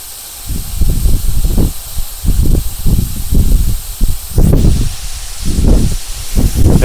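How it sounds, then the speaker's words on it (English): Air hisses out of off-road vehicle tires through a FasterFlate deflation system in strong, pulsing rushes that rise and fall in rapid succession, loud and close. "To air down, once all 4 tires are done, you just flip this down and you wait."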